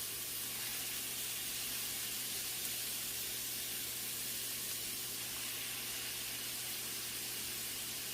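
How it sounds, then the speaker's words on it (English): A pot hisses in a steady, even sizzle, like chicken frying, holding as a constant bright wash of spitting noise with no breaks. "It kind of sounds like you frying some chicken."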